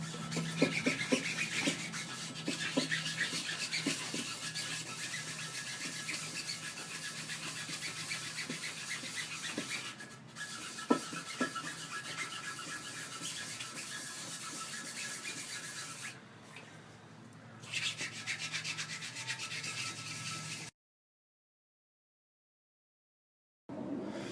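GSR blades are rubbed by hand in circles with abrasive paper, making a continuous close scratchy rubbing that holds steady with small dips, then stops in a stretch of silence before resuming briefly.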